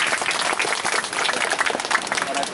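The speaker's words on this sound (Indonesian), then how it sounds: "kita beri tepuk tangan dulu" A Baptist congregation on a church retreat claps together after a prayer, producing brisk, loud, continuous applause with some voices mixed in.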